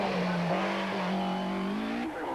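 A Ralt RT4 racing car climbs the Shelsley Walsh hillclimb, its engine a loud, close, continuous high-revving drone that rises in pitch and shifts up through gears, heard with no talk.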